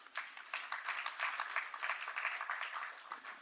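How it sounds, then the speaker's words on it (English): Continuous audience clapping at a student budget forum, a sustained patter of many hands with slight swells, heard from a moderate distance and not very loud, with no talk over it. "Continuous clapping."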